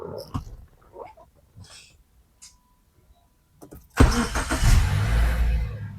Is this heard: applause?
no